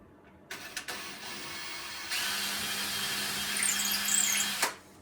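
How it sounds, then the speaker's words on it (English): A small masonry bit drills a pilot hole through plasterboard in a window recess, starting with short bursts and then settling into a continuous whirring run of a couple of seconds before it stops. "So I'm just going to drill a little pilot hole using a small masonry bit"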